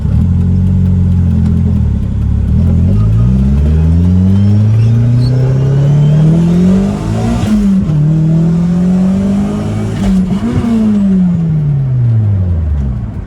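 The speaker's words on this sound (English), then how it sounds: "This car is making all sorts of racket." A car with a failing transmission revs hard while driving, its engine loud and close. The pitch climbs and drops through several gear changes, including a rough bang into fifth.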